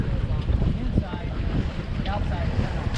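Wind buffets the microphone aboard a sailboat racing on open water, a steady broadband rush with faint splashing, continuous and close throughout.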